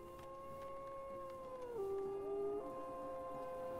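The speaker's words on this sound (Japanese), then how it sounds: "狼の声は聞こえるんだけど、" Wolves howl in the Farthest Frontier video game, long sustained tonal cries overlapping in a steady chorus, one voice sliding down in pitch midway, over a low ambient game background.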